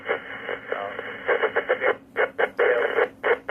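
A voice comes through a band-limited ham radio channel on 146.490 MHz simplex, clipped and narrow, talking in short bursts over a faint hiss.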